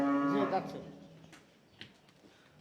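A crossbreed cow at a dairy farm lets out one loud, close moo at the start that fades away, followed by quieter farm background sounds.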